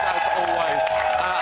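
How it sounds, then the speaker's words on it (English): A television studio audience applauds steadily, a dense wash of clapping with faint cheering, under a speaking voice. "Give yourselves all a round of applause."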